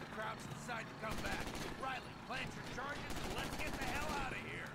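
Gunfire in the World War II shooter Call of Duty: United Offensive comes as rapid bursts of automatic shots in two clusters, mixed with other game sounds and possible voices.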